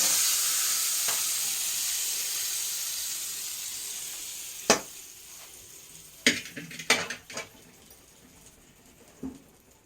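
Dried red chillies tempered in hot oil for a tamarind-leaf and peanut chutney give off a fading sizzle, broken by a few sharp pops and spoon or pan clinks in the latter half.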